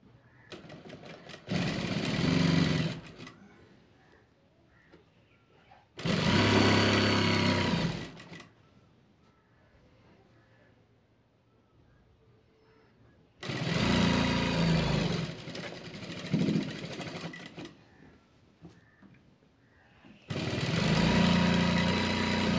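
A sewing machine stitches a long blouse with bracket-style sleeves in several loud, steady runs, each a few seconds long, separated by quieter pauses with faint handling noise.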